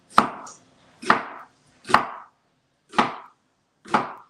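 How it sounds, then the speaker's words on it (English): A knife chops an onion on a cutting board in five crisp, evenly spaced strikes about a second apart, close and clear with no talking. "I'm going to be just kind of free with the chopping"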